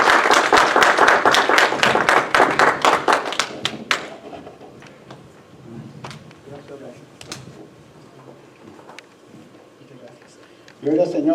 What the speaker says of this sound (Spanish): Ofrézcale más palmas al Señor esta preciosa tarde